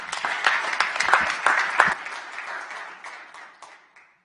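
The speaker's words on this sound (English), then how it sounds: "One more round of applause for all that our military does." Audience applause at a Clark County Commission meeting for the military, starting loud with sharp claps and tapering off over about four seconds.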